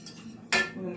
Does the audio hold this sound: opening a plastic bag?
no